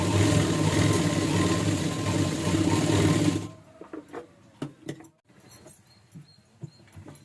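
A sewing machine stitches on canvas in a fast, steady whirring run for about three seconds, then stops, leaving scattered faint clicks and handling sounds.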